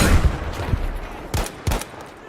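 Sniper and other gunfire in a squad-based tactical shooter video game, a quick run of sharp, loud cracks and booms over a couple of seconds with no voices.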